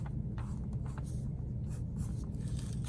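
A pencil draws quick layered lines on paper in short repeated scratchy strokes, close and steady over a constant low rumble, with no talking.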